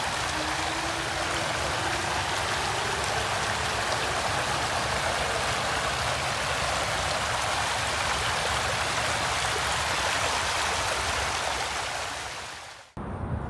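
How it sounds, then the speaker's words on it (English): Steady rushing water of a small stream tumbling over rocks, a continuous full splashing wash that holds unbroken until it cuts off at the end. "Give you a little time to listen to the babbling brook."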